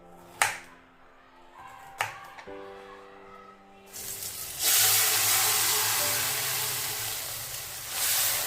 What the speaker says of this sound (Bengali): তো এই যে ডালটাকেও আমি ফোড়ন দিয়ে দিলাম